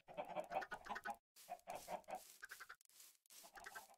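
Chickens in the video game Minecraft cluck in a busy string of short, bursty calls, pausing briefly midway and then resuming at a moderate, fairly close level.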